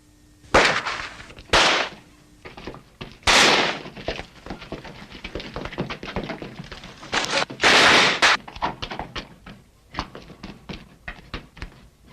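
Sharp gunshots from a sniper in a war-film battle crack out irregularly, several loud bursts and scattered smaller pops over about twelve seconds, with no speech.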